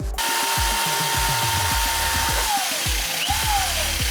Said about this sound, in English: I know I'm holding the drill upside down.